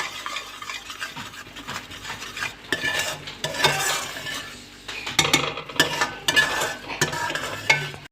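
Makhana halwa is stirred in a pan, with a spoon scraping the sides and bottom in repeated strokes, soft sizzling and occasional metallic clinks of utensil against pan, close and fairly loud without any talking.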